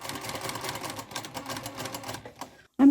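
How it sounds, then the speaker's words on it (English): A sewing machine stitching fabric down to a corner, a rapid rattling run of needle strokes that stops shortly before the end, followed by a brief louder sound. "And I'm going to sew down to the corner."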